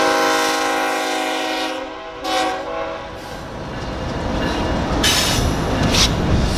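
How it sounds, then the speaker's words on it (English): A Canadian Pacific general manifest freight train enters a historic rail tunnel on a hot July afternoon, with loud sustained horn blasts giving way to rumbling wheels and clattering cars close by. "we watch as a Canadian Pacific General Manifest train enters the historic tunnel on its way to the Canadian city of Windsor, Ontario"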